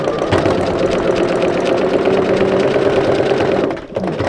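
A sewing machine running steadily, stitching a quilt seam around an appliqué, with a continuous close, loud mechanical whir that drops off briefly near the end.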